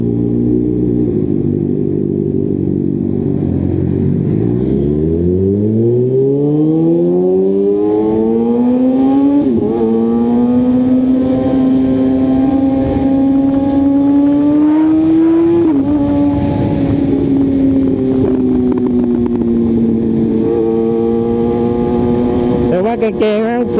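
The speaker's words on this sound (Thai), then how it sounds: "คันข้างหน้าแม่งโคตรซิ่งเลย" An engine runs close and loud from inside a car racing behind another fast car, revving up in rising sweeps and shifting through gears, with a steady drone between pulls; people talk over it.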